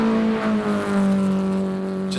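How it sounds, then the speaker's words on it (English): Classic car accelerating up a hill climb course at Simola, a steady engine tone rising in pitch as it passes nearby, loud and close, with no talk. "Just wonderful to hear the sounds of these cars going up this hill as well."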